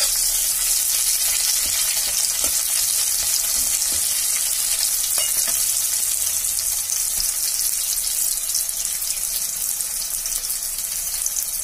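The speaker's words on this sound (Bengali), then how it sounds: "পেঁয়াজটাকে ভালো করে ভেজে নেব, তারপরে এটা আমি বেগুনটা দিয়ে দেবো এর মধ্যে" Onion and eggplant frying in oil for begun bhaja, a steady close sizzle and crackle running the whole time with occasional stirring scrapes, no voices.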